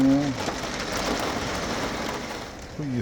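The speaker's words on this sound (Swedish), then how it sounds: "Skyfall skulle jag vilja kalla det." A heavy downpour at a campsite, a dense, steady hiss of rain hammering down close by for the whole three seconds, with a voice briefly audible at the start and end.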